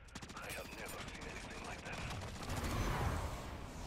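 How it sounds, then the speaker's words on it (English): Rapid automatic gunfire from Call of Duty Modern Warfare 3 Zombies as players shoot at crystals, a steady dense rattle of shots with mechanical clatter under game sounds and players talking. "So then, we just shoot these things? Oh! Yeah, shoot the crystals."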